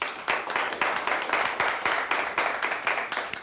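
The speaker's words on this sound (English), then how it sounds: "Let's give them a nice round of applause." An audience applauds a high school quiz team in a studio quiz show, with dense, steady clapping that continues evenly at close range from start to finish.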